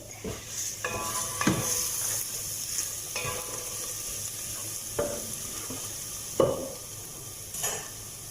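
Garlic fries in a pan over medium heat, a continuous sizzle broken by several sharp clinks and scrapes of a utensil against the pan.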